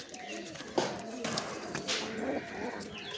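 Caged pigeons coo softly in low, broken phrases amid rustling and scattered knocks, fairly close, with a louder burst of noise near the start and a busy background.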